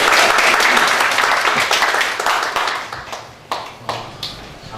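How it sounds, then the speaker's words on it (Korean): An audience at a seminar applauds with dense, loud clapping that gradually thins out and fades, ending in a few scattered claps. "뜨거운 박수 한번 쳐주시죠"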